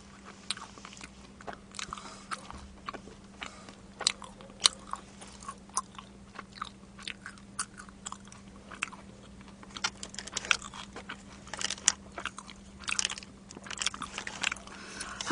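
Chicken is chewed with loud, close, wet crunching and biting, steady irregular mouth sounds running throughout over a low constant hum, with no talking.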